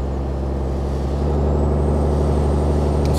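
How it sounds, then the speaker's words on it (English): Engine braking from a truck's Jake brake in Euro Truck Simulator 2, heard from an outside view as a loud, continuous rumbling drone that swells slightly, with no voices over it. "Wonder what the Jake brake sounds like in this."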